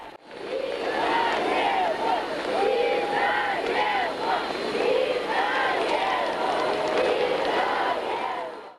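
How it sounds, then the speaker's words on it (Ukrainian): A large crowd cheers and shouts greetings in unison as Pope John Paul II arrives at Lviv airfield, with loud, sustained chanting and rising voices continuing throughout. "На львівському литовищі його зустрічали під вигуки Вітаємо."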